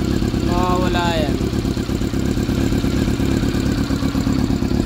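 A Honda CB-1 400 motorcycle engine runs steadily at idle, a dense mid-frequency throb with clattery mechanical texture throughout, close and loud, with a voice speaking briefly over it near the start.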